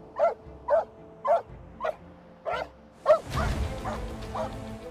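An agitated Labrador barks on a beach in about seven sharp, evenly spaced barks, close and loud, before the shoreline rumble of surf and wind swells up behind the last yips.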